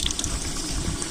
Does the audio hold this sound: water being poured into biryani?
yes